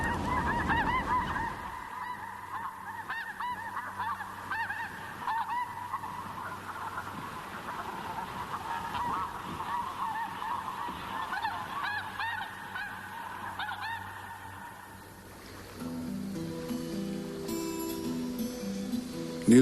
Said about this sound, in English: nothing equals the thousands of migratory snow geese feasting on the sandbanks